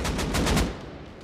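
Rapid automatic fire from an M2 and an AK exchanging shots in the Rust console game: several close, loud, evenly spaced bursts that stop abruptly and leave a short decaying echo.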